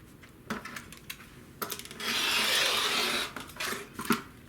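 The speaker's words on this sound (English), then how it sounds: "The first thing you do is cut off the selvage." Quilting fabric has its selvage edge trimmed with a cutter, giving a few faint clicks and taps followed by a brief rasping cut about a second long and some light handling noise, heard close and quiet.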